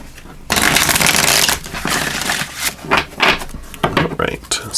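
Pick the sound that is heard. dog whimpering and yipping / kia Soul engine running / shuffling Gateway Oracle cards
shuffling Gateway Oracle cards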